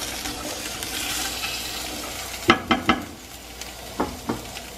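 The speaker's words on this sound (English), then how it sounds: "Give that a quick little stir." Celery being stirred in a heating soup pot for a vegetable soup, with a soft sizzle underneath and a quick run of three sharp scraping knocks midway, then two more a little later.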